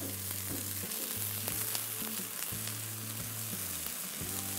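Chopped gongura leaves sizzle and crackle as they fry with onions in a pan, with a steady near sizzle and occasional stirring clinks, no voices.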